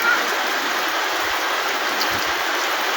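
Heavy rain pours down in a village as a loud, dense, unbroken hiss of water, steady from start to finish with faint low thumps underneath.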